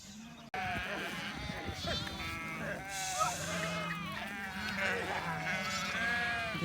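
A flock of sheep bleats continuously on the move, many overlapping calls near and far, with people talking among them.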